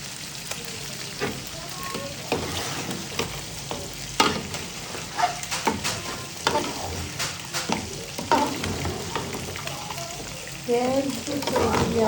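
Spices being stirred and sautéed (kosha) in a hot pan, with steady sizzling and frequent scraping stir strokes close by, while people talk intermittently over the cooking.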